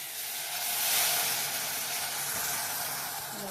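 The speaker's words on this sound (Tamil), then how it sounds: "வெந்நீர் இதை ஊற்றணும்." A steady, loud hiss and sizzle continues for a few seconds as hot water is poured into roasting semolina for kesari, with no voices.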